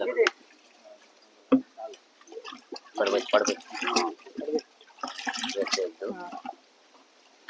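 Water splashes and gurgles into a 15-litre sprayer can while papaya leaf extract is prepared for spraying on crops, in intermittent bursts of pouring under someone speaking nearby.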